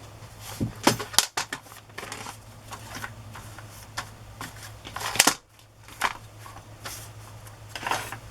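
Paper being trimmed with scissors while decorating a handmade journal page, giving a string of crisp snips and rustling paper handling, fairly close and quiet, with sharper cuts spaced irregularly through the span.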